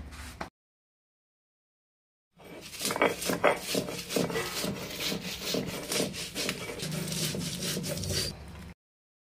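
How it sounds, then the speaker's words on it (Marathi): Green chillies and salt are ground by hand on a stone slab (pata), a close, rhythmic scraping and rubbing that follows a brief sound and a long silence, then stops abruptly. "आता हे वाटण आपल्याला पाट्यावर वाटून घ्यायचं आहे आता मस्त बारीक."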